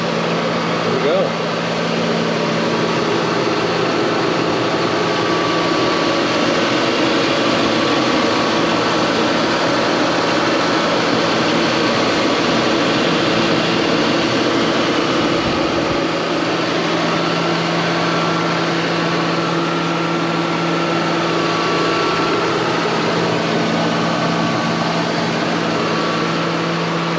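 A 1998 Mercury Grand Marquis with 45k miles runs with a steady, smooth engine drone and a broad airy hum, continuous and fairly loud for the whole stretch with no pauses.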